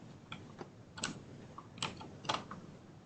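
Keystrokes on a computer keyboard while editing in the vi editor on Linux, a few separate clicks and short bursts at an uneven pace, fairly faint and close, with no talking.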